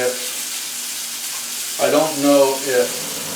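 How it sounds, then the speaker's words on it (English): Chicken searing in a hot pan with Marsala wine, a faint hiss that swells into loud crackling sizzles, with a person talking during the cooking. "everything I'm trying to do here was trying to sear off the chicken itself"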